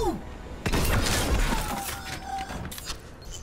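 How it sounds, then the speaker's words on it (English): In the video game Overwatch, Torbjorn's shotgun fires: a sudden loud blast followed by a clattering, metallic rattle and scattered impact noises that fade over several seconds. "he also has a shotgun with the right click"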